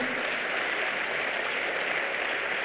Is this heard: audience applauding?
yes